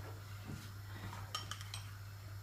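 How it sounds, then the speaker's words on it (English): A paste being mixed with a little milk in a bowl for a fish pie, light spoon clinks and taps against the bowl, a few quick strikes close by over a low steady hum, with no talk. "So I'm just going to mix this with a little milk, just to slake it, as they say."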